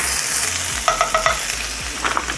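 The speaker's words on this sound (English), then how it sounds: "We're gonna start with some butter. Get that into a ripping hot pan." Butter sizzles loudly and steadily in a very hot pan, with a few light scrapes of a utensil over the constant crackle.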